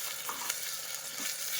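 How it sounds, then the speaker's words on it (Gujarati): Potatoes are stirred with green chili paste and curry leaves in a hot pan, giving a steady close sizzle with soft scraping strokes throughout and no voices. "બધું એક વખત આવી રીતે મિક્સ કરી લેવું।"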